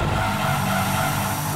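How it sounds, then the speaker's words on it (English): Car braking hard and skidding in the Gran Turismo 2 racing game, a steady loud engine roar with tire squeal running continuously through the short stretch, with no talking. "And slam on the brakes."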